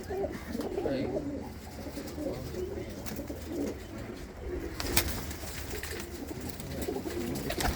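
Pigeons coo softly and repeatedly among flock birds kept at home, low throaty calls in an uneven rhythm, close by, with occasional wing flutters, knocks and a brief voice in the background.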